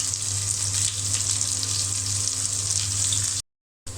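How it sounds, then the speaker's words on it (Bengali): Sliced onions and green chilies hit hot oil in a pan with a loud, dense, steady hiss, close and unbroken for several seconds before cutting out abruptly near the end. "তেল গরম হয়ে গিয়েছে আমি পেঁয়াজ দিয়ে দিলাম আর দিয়ে দিলাম কাঁচামরিচ"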